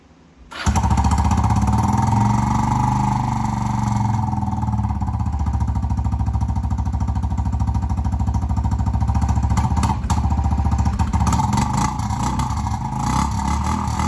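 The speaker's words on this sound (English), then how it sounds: "I'm gonna start it up and let you hear this muffler that's been modified" An ATV fitted with a modified muffler starts and keeps running, a loud, steady engine drone with a rough, throaty exhaust note and small rises in revs throughout.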